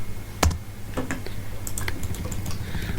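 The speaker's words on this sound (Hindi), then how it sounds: "इसका ऊपर फिर मैं डबल क्लिक करता हूँ" A computer mouse clicked in quick pairs during drafting work in AutoCAD, sharp light clicks near the microphone, a few close together, over a low steady hum.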